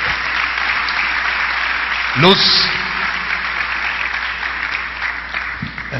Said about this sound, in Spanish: Un aplauso al Señor, hermanos